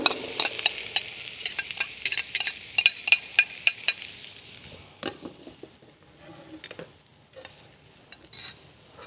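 Onion sizzling in a paella pan over a charcoal grill: loud, steady frying hiss broken by a run of sharp utensil clinks and scrapes, then a softer sizzle with scattered taps.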